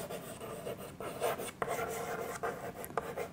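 Chalk or marker scraping across a board in a class, a steady run of rubbing strokes with a few sharper taps, close and fairly loud, no talking.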